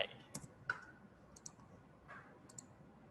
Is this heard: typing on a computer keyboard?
yes